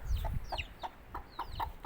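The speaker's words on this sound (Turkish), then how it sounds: "Burada da o çaparlı horozun kardeşinden olan tavuğum var." Indian breed hens clucking in short repeated bursts, close by, with an Indian breed rooster mixed in; no talking.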